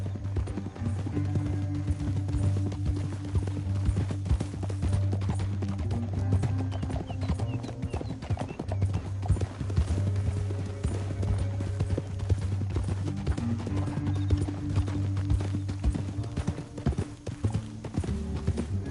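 Rhythmic hoofbeats of horses galloping in the video game Red Dead Redemption 2, clip-clopping at pace, close and continuous, layered over a low droning music bed.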